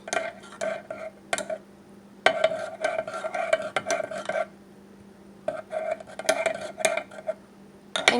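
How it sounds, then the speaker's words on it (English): A spoon clinks rhythmically against the sides of a mug while honey is stirred into ginger tea, bright repeated taps in bursts separated by short pauses, close and clear. "So I'm just going to add 2 teaspoons of honey and just stir it in."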